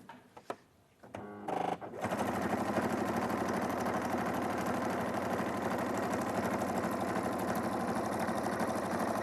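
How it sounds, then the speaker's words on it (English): A sewing machine stitches fabric with a fast, steady mechanical whir that runs continuously after a few brief starting clicks and knocks, close and even in level. "All right, I'll sew this one on, and then I'll do it again."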